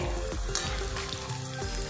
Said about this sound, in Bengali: খুব কম সময়ের মধ্যে কিন্তু চপগুলো মুচমুচে করে ভাজা রেডি হয়ে যাবে